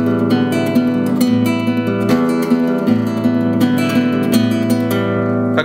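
Acoustic guitar fingerpicking exercise that starts on the second string, alternating a bass note with the first, second and third strings. The notes ring in a steady, even, continuous pattern, close and clear with no talking.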